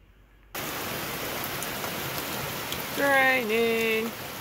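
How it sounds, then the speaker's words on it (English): Steady rain hisses on surfaces close by, while a high warbling bird call rises above it near the end. "Raining."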